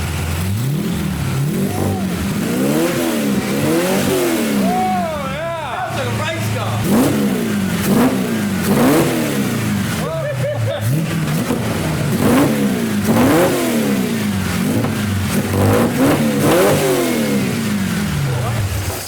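Snoop Dogg's car with the exhaust cans fitted, its engine revved hard again and again in loud rising and falling sweeps for the whole stretch, close by, with voices now and then between the revs.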